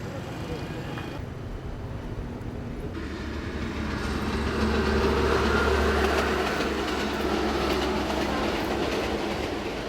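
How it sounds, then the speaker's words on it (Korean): Vietnam's Reunification Express train rolling along its rails, a steady loud rumble with faint wheel clatter that swells and holds throughout. "베트남인들은 이 철로를 달리는 기차를 통일열차라 부른다."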